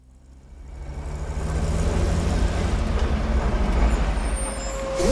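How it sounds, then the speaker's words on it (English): A truck in the UnMetal video game rumbles to life and pulls away, its low engine drone swelling to a steady loud roar with a hiss of air brakes near the end. "My instinct told me the gate was going to open and a truck was going to leave."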